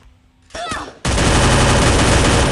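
Gunfire in the mobile shooter Free Fire: a short chirpy effect gives way to loud, rapid continuous automatic shots filling the rest of the moment.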